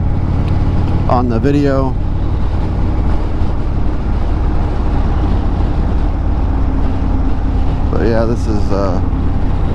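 Engine of a 2021 Indian Springfield Dark Horse motorcycle running as it rides, a steady loud rumble with rushing wind throughout while someone talks briefly over it.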